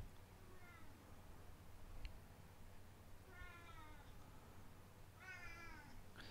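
A cat meows several times in short rising-falling calls, clustered in three bursts, fairly close over a steady low background hum.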